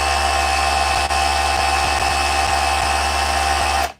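DeWalt SDS drill running in hammer drill mode during a repair, a steady loud whine with a fast rattling hammer pulse, continuous for about four seconds before cutting off abruptly.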